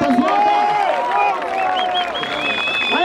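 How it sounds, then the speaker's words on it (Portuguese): A crowd at a rap battle in Barueri, São Paulo, bursts into dense applause and cheering, with shouts and whistles mixed over the clapping throughout. "uma salva de palmas pro Preto aí, rapaziada."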